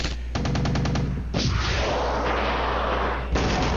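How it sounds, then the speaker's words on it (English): Helicopter gunfire aimed at tanks in the video game Arma 3. A rapid burst of automatic cannon fire is followed by loud, sustained, rumbling blasts and another burst near the end, a dense and continuous battle din. "We fire and fire and fire and fire and fire and not much."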